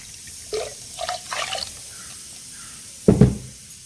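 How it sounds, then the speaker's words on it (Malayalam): Tamarind water poured into a clay pot of sardine curry, a few short splashes and trickles followed by one louder pour near the end, close and without talk. "പുളിവെള്ളം ഒഴിച്ച് കൊടുക്കട്ടോ"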